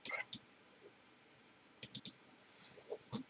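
Several sharp computer mouse clicks in small bursts while signing up on the Coinbase website, close and fairly quiet, with brief pauses between clusters.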